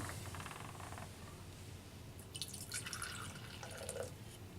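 A drink pours into a big cup during a drinking game, with a thin trickle first, then splashy, gurgling pouring and dripping, fairly quiet and close.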